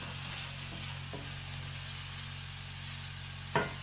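Diced medium jalapeno cooking in a pan with a steady low sizzle under a constant hum, a couple of faint clicks, and a short sharp scrape of stirring near the end.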